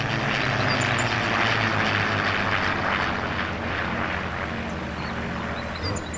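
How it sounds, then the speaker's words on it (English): Propeller airplanes pass over a farm as a steady, loud droning engine roar that fills the whole stretch with no talking. "planes flying over again."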